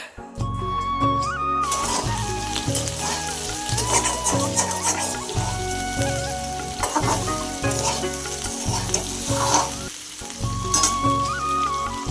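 Meat frying and sizzling in a pan under a sunny outdoor spot in a village home: steady, dense crackle and hiss with stirring scrapes throughout, with a rooster or chickens faintly audible nearby.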